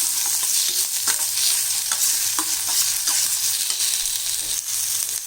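Tomato sautéing in a pan for a urad dal chutney, with a steady close sizzle and repeated scraping strokes of a spoon stirring throughout, no talk.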